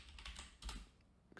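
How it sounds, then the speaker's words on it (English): Typing on a computer keyboard during a coding session: a brief run of soft, quick key clicks, close and faint, with no talking. "Now we're going to go ahead and type this in."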